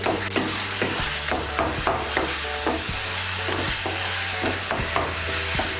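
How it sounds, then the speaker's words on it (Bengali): Ground sesame paste is mixed into mashed brinjal for an egg and brinjal bhorta, with repeated rhythmic scrapes and knocks of a utensil against the bowl over a steady hiss. "তিল বাটাটা মিশিয়ে নিচ্ছি। ভালো করে মিশিয়ে নেব বেগুনের সঙ্গে।"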